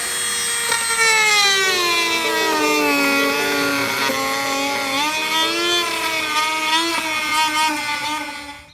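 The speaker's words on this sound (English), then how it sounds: "So I pulled out my Dremel and I'm just gonna start cutting it out." A Dremel rotary tool cuts out a molded plastic cover for fog light installation on a car, a loud, close high-pitched whine that shifts pitch continuously as the bit bogs and recovers in the plastic.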